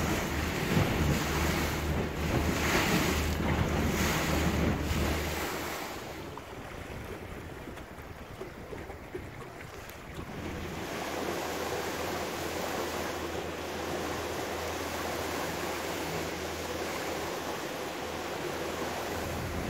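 A boat cruises slowly back along the shoreline of a big lake, with steady engine rumble, water wash and wind buffeting the microphone. The engine drone drops away briefly midway, then returns.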